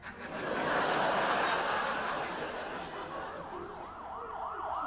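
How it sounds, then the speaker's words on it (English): An ambulance siren wails in rising and falling sweeps, growing steadily louder as the vehicle arrives, over a loud, dense bed of crowd noise with faint laughter. "The ambulance is here."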